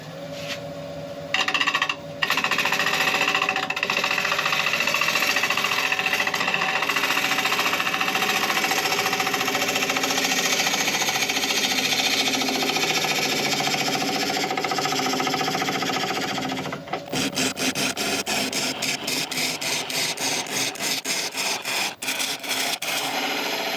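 A wood lathe spinning at 900 RPM drones steadily while a tool hollows out a burl bowl, giving a loud continuous grinding rub. Near the end the cut turns choppy and rapidly pulsing.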